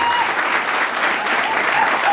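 Wedding guests applaud steadily at a ceremony, a dense, even wash of clapping from many hands that carries on without pause, with faint voices mixed in.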